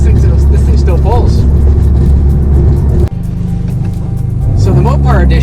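A Dodge Dart Mopar Edition on an Alfa Romeo-based chassis accelerates, its engine droning loud and close with a brief drop midway like a gear change before the pull resumes; a voice may sound faintly beneath.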